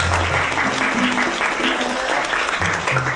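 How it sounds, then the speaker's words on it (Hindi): Audience applause in a dubbed Chinese romance drama, a steady wash of many hands clapping at full volume throughout, with a dense roar and no pauses. "चलो तालियां बजाओ इनके लिए।"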